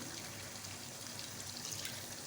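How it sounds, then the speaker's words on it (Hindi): Water poured in a thin stream into a pot of marinated meat for a home-cooked Hyderabadi dum gosht, a steady soft trickling wash running the whole time with no talk. "अब इसमें डालूँगी थोड़ा सा पानी"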